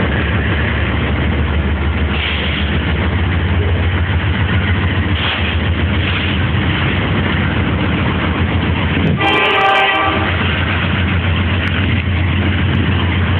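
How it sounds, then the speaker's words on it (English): A freight oil train rumbles steadily past nearby with a heavy, continuous roar of wheels and engines, and a loud horn blast sounds briefly partway through. "Looks like an oil train to me."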